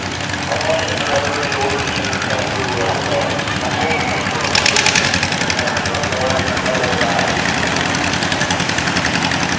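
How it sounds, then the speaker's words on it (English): John Deere tractors rumble past at a Memorial Day parade in Ellenburg Center, a loud, close, steady diesel idle with a knocking throb, while people talk over the engine noise. "Couple more John Deere's underway."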